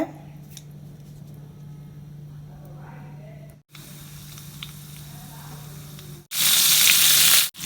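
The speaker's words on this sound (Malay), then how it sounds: "Kena masak bawang ni until golden color." Onions sizzle and fry in a pan with a steady hiss, rising to a loud, bright burst of sizzling near the end, with a person talking faintly in between.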